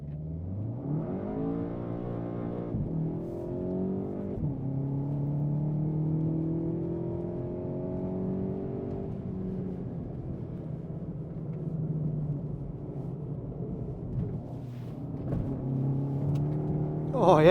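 A car laps a race track during a tyre test, its engine heard from onboard rising and falling through repeated upshifts, sustained high revs and lifts, loud and close throughout, with a burst of noise at the end.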